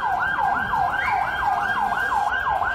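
Ambulance siren wailing in Istanbul just after an explosion, a loud, steady rising-and-falling electronic wail repeating roughly every third of a second throughout, with road traffic rumbling faintly beneath.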